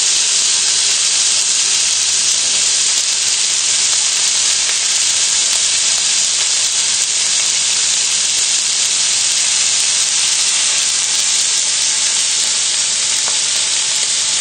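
Steak searing in a hot pan after being turned over, giving a steady, loud, close sizzle and frying hiss that runs unbroken for the whole stretch with no voices.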